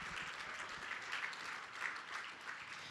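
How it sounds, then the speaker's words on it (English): A conference audience claps together in continuous, even applause that sounds dense and a bit distant, holding steady throughout. "So please, let's just clap for everybody that's here."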